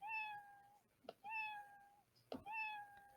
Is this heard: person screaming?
no